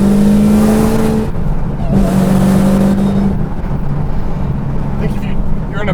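A 1,000 horsepower Dodge Challenger Hellcat roars loudly nearby, its engine revving up in rising surges with gear-like pitch shifts before settling into a rumbling idle, a person speaking briefly over it.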